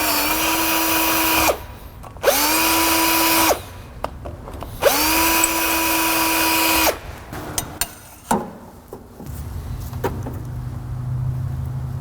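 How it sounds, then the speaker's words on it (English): A power drill bores a hole through a fastener mount during final assembly of a Fairmont project car, near the oil filter. It runs in three close, loud whirring bursts, each winding down, followed by quieter clinks of handling. "gonna drill a hole through the middle so we can attach another fastener"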